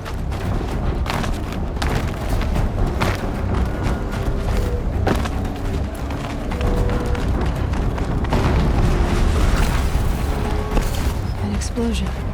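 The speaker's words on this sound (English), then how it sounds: "An explosion." Booming in-game blasts from Horizon Zero Dawn ring out through a dense, continuous wash of combat noise, with sharp impacts scattered across the span and a voice talking over parts of it.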